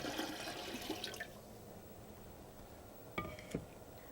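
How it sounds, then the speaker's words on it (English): Water pours into an empty canner on a stovetop for fish canning, a faint splashing rush that fades out after about a second, followed by a couple of soft metallic clunks. "and add 2 to 3 inches of water"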